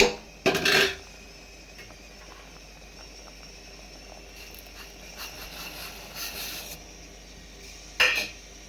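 Sago and vermicelli payasam is stirred in a pot. Two short, sharp scrapes of a spoon against the metal stand out at the start and near the end, with a quiet, low simmer between them.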